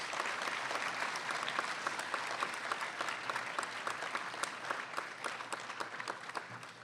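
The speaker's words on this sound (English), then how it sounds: "Can we give them a round of applause," A school audience at a Memorial Day ceremony applauds armed forces representatives, steady and moderately distant clapping that fills the room at an even level.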